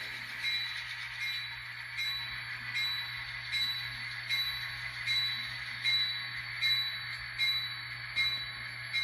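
An N scale model train locomotive backs slowly into its engine house, giving a steady, faint mechanical whir with a soft, rhythmic pulsing drone. It runs continuously and close up, with no talking.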